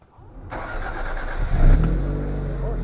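A Toyota MR2 engine cranks and catches after a brief quiet start, then revs up loudly before settling into a steady running rumble.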